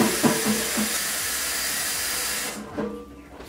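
Tap water runs steadily onto a potato being washed in a home kitchen sink, a broad continuous hiss that cuts off near the end, followed by a few light handling knocks.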